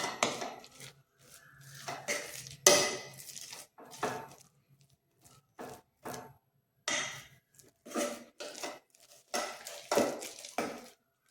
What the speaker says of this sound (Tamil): நல்லா கரண்டி வச்சு இந்த மாதிரி மசிச்சு விட்டுக்குவோம்